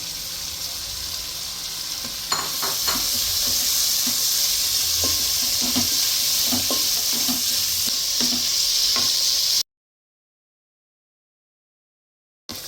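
Onions, shallots and green chilies sautéing in a pan for white mutton kurma, a steady close sizzle with repeated stirring scrapes, then a sudden cut to silence near the end.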